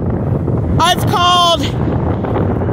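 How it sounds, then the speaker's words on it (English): Strong wind roars and buffets the microphone throughout on South Beach, Crescent City, with someone speaking briefly over the loud gusting rumble. "sorry, it's really windy, so I'm gonna have to talk loud so you can hear me."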